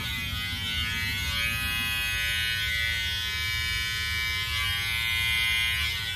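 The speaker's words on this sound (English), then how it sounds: "Are you shaving it now?" Electric razor shaving a man's face, a continuous close, steady buzzing hum with slight shifts in tone as it moves across the skin, with no talking.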